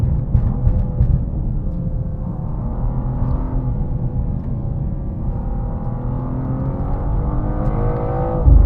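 A BMW M2 (G87) engine revs while driving, a loud, steady, close drone whose pitch climbs and falls in smooth sweeps, swelling again near the end.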